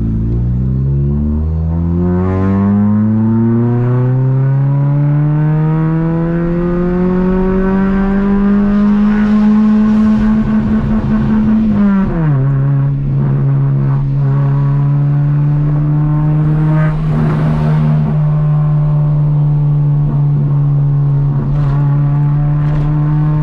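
A 1999 VW Gol G2 with a 1.0 8V engine and a 4-inch HKS exhaust drones loudly and steadily close by. The engine pitch climbs gradually, then drops slightly and holds at a deep idle rumble. No one speaks.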